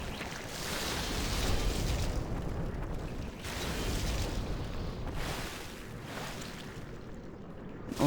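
Exploding slug enemies in Demon's Souls, a series of deep rumbling booms rolling one after another, loud and close with no voices.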